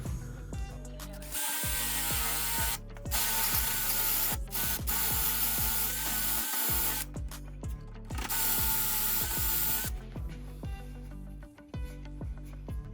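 A power tool drives bolts on a DIY enclosed bike hauler trailer in repeated loud whirring bursts with brief pauses between them, close by with no talk.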